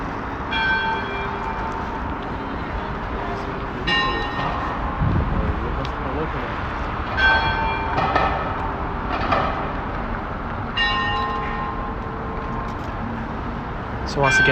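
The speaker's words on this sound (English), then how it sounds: "They're just starting, ringing the bells, and then it's going, just better, more sound, just like in the music" Church bells ring out over a city street in Moscow during the Christmas season, repeated bursts of bright clanging strokes at a moderate distance, mixed with traffic rumble and a voice talking over them.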